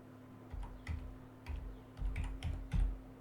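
Typing on a computer keyboard into a search bar: about eight soft, close keystrokes at uneven intervals over a faint steady hum, with no voices.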